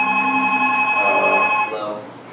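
A telephone rings during a Go class, a loud, close electronic bell trill holding steady tones before cutting off, with faint room murmur underneath.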